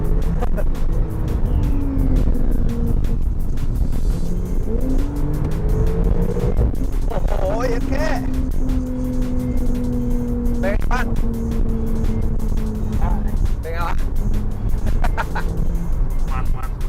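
Porsche 991.2 Carrera GTS accelerating hard, heard from inside the cabin as a loud, sustained engine drone whose pitch climbs and shifts through gears, with people talking over it.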